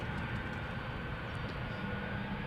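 A KLM Boeing 777 departing Amsterdam Schiphol, heard as a steady, broad jet roar at a moderate distance, constant throughout with no voices.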